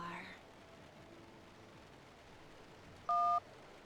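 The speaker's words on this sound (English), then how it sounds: "I call back the number from the missed calls." A short, loud two-tone keypad beep sounds near the end as a phone in a video game dials back a number from its missed calls, following a quiet stretch with a soft murmur at the start.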